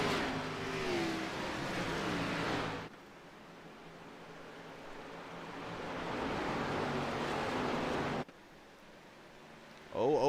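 Race cars at Richmond roar around the oval, a loud broadband engine drone that swells and drops off abruptly near three seconds, holds a steady rumble, then cuts and surges again at the end.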